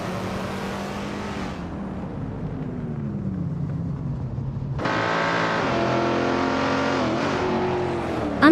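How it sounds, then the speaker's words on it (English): A 1966 Ford Fairlane race car engine in a racing video game drones continuously, its pitch sliding down and then jumping back up as it revs again, loud and steady throughout. "Shlupadib is driving a 1966 Ford Fairlane, currently holding third place."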